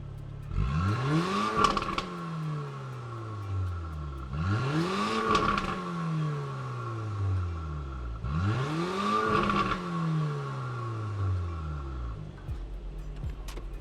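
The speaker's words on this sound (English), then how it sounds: "now we're gonna go Sport Plus with the Sport exhaust on" A Porsche in Sport Plus mode with the Sport exhaust open revs three times, each rise climbing to a loud, raspy peak and falling back over a steady idle, close by and without talk.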